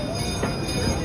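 An amusement park train at Busch Gardens Williamsburg rolls past in a steady, loud rumble with a faint wheel squeal over constant background noise.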